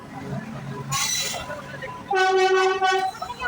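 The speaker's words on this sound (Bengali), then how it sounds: "যেই ট্রেনে এসেছিলাম ওই দেখো পাশ দিয়ে যাচ্ছে ট্রেনটা" A train passing at Dum Dum station in India: a rushing burst, then a loud, sustained multi-tone horn blast up close, with a voice faintly present.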